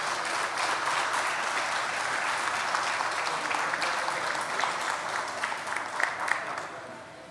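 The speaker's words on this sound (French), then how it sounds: "S'il vous plaît, on les applaudit très fort" Sustained applause from a crowd at an Innu community announcement of a hotel project in Uashat, dense clapping with scattered louder claps and faint voices, tapering slightly at the end.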